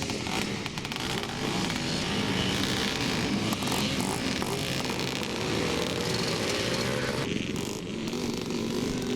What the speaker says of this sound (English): Brian Hamilton there on the Husqvarna number 14